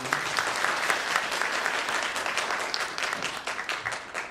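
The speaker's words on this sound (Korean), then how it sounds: "총장님께 다시 한번 감사의 박수를 부탁드립니다" An audience at a Gimpo University vision declaration ceremony applauds in thanks for the university president, a dense, steady wash of many hands clapping that fills the room and tapers slightly near the end.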